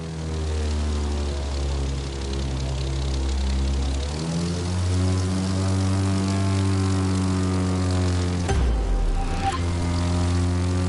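A propeller airplane engine in The Crew 2 drones loudly and steadily through a loop, its pitch slowly shifting as the plane climbs and turns, with a brief dip near the end.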